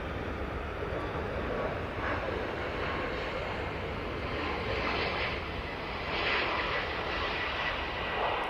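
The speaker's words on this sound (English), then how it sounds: "There goes that Ryanair Max 8" A Ryanair Boeing 737 MAX 8 passes at Manchester Airport with a continuous, fairly loud jet engine roar and whine that rises and falls gently, no talking.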